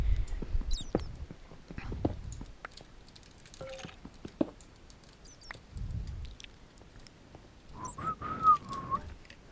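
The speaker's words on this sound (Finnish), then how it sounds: "Sori tosta viheltelystä" Someone whistles a few short, faint tune fragments while playing Minecraft, over scattered soft clicks, taps and game noises, with quiet breathy sounds between the phrases.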